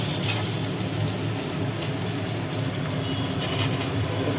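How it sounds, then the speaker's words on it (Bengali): Potatoes fry in hot oil with black cumin seeds, a steady, loud, dense sizzle that stays even throughout with no pauses. "কালো জিরের ওপরে আলু ফেলে আলুগুলো মোটামুটি ভাজি হয়ে গেল"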